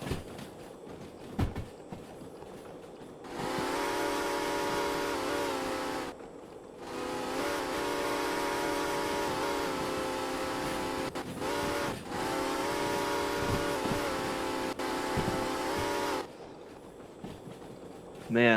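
The six-chime whistle of steam locomotive ATSF 2901 in the Derail Valley train game sounds in long sustained blasts, several of them separated by short gaps, loud and chord-like over a low rumble.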